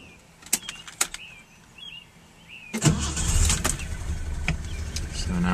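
A Datsun 240Z cranks and catches after a few light clicks, then its engine settles into a loud, steady idle up close.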